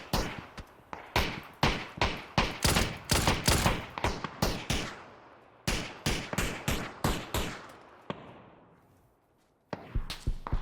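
Rapid bursts of Kalashnikov rifle fire in PUBG crack repeatedly, clustered volleys with brief pauses between, loud and close, with a longer fading tail near the end.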